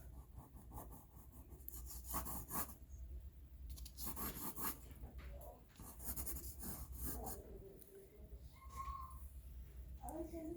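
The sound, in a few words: pencil drawing on paper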